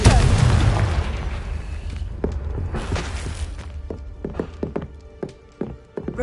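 A Confringo fire spell explodes in Hogwarts Legacy with a heavy opening boom. A string of sharp thuds, pops and footstep-like knocks follows and fades into quieter game sounds.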